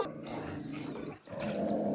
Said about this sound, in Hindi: वो ये सब कुत्ते क्यों अटैक कर रहे हैं?